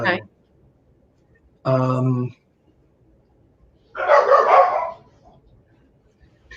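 Dog barks and yips come in three separate bursts, loud and close, with quiet gaps between them and no talking over them.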